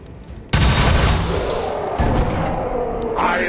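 Gunfire in the video game XCOM 2: a sudden loud burst of shots that crashes in abruptly, followed by a second heavy blast and a rumbling, booming tail that stays loud to the end.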